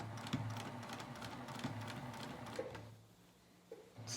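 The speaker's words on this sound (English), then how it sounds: "now I'm gonna start stitching around the pocket" A sewing machine stitching around the pocket of pajama pants, with a steady mechanical whir and rapid needle pulses for about three seconds before it slows and stops, quiet and with no talking.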